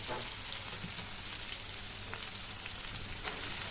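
Pui shak greens sizzle and crackle in hot oil with spices in a frying pan, a soft continuous hiss heard close up, with no voices.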